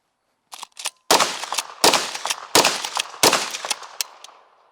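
A Henry Big Boy Model X lever-action rifle in .357 Magnum/.38 Special fires four quick, loud shots in a steady rhythm, each a sharp crack with a short decaying tail, after a few lighter mechanical clicks of the action.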